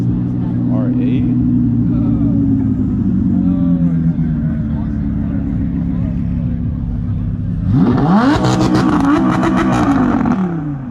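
Audi R8 with a V10 engine revving at a cars and coffee meet, a loud burst of high-revving engine noise rising over steady crowd and idling-car rumble, with people talking nearby.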